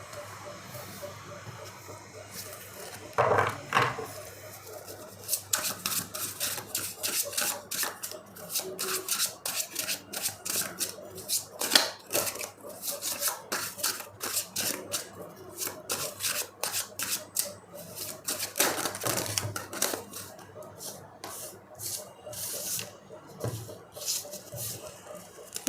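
Slippery tarot cards are shuffled over and over up close, giving repeated bursts of quick, papery riffling and flicking that come in uneven rhythmic clusters.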